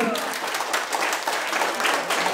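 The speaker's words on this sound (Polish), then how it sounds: "A gdzie są brawa dla nich, kochani?" Wedding guests applaud as the couple cuts the wedding cake, a busy stretch of many hands clapping with faint voices mixed in.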